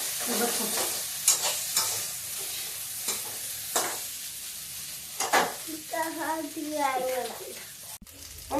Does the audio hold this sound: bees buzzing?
no